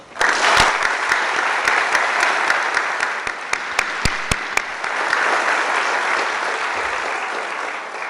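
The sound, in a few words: audience applause at a graduation ceremony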